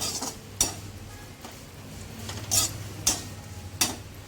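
Quiet kitchen scene of raisins frying in ghee in a kadhai, with sharp spoon-on-pan clinks at irregular intervals over a faint low sizzle.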